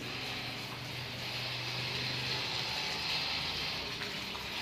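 Steady, broad rushing of heavy monsoon rain and flowing floodwater in a waterlogged street by a Hanuman temple, a continuous moderate-level wash without pauses.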